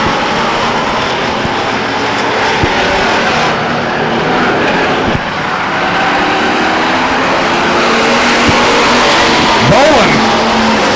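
Race cars circling a short oval track at Stockton 99 Speedway, a steady, dense engine roar that holds throughout, with a louder car swelling near the end, under continuous announcer-style talk.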